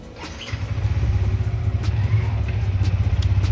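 A motorcycle engine runs steadily and fairly close as a father rides the bike, a low continuous rumble that starts after half a second and holds with slight throttle pulses throughout, with no talk.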